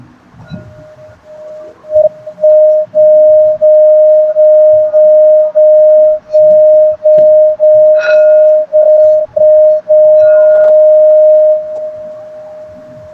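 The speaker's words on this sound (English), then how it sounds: "So this is called a meditation bowl or a singing bowl" A meditation singing bowl is struck and rings with a sustained pure tone that pulses and wavers, is briefly damped several times, and then stops, loud and close, with faint background noise and no speech.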